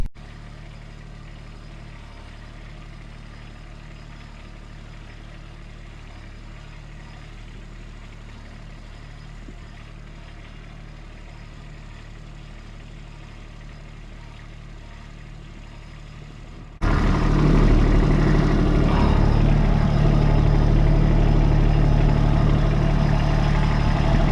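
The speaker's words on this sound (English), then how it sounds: "the noise of the tractor" Tractor on wet grass pulling a polytunnel chicken tractor, a low steady engine drone that suddenly jumps much louder and nearer partway through, continuing as a heavy, broadband rumble.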